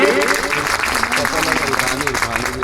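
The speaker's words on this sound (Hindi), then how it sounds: "तो जोरदार तालियां अपने लिए और अपने समाज के लिए।" Rally crowd at the martyrs' memorial in Jali Kothi, Meerut, during a Tiranga Yatra, clapping steadily and loudly throughout, with a voice speaking over the applause.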